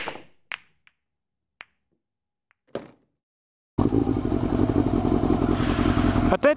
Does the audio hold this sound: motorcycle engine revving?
yes